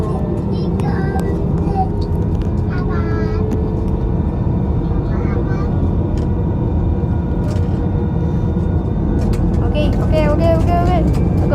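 An AirAsia Airbus taking off at Kuala Lumpur gives a loud, steady engine roar and cabin rumble that fills the whole stretch, while people talk over it.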